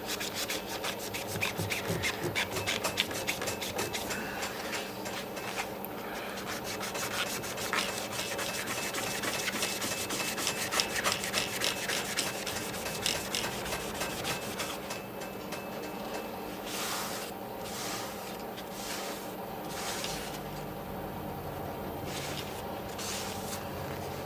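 A magic eraser scrubs the playfield of a 1976 Gottlieb Target Alpha pinball machine, a close, rapid back-and-forth rubbing that runs steadily with brief pauses and no voices.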